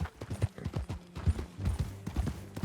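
Horse hooves from Red Dead Redemption 2 clip-clop in a quick, even rhythm as the horse is ridden, moderately close and fairly quiet, with no talking.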